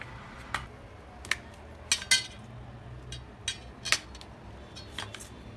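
Rolled wheat-flour dough pieces being cut on a kitchen surface, heard as a series of sharp, sparse metallic clicks and taps at irregular intervals over quiet background.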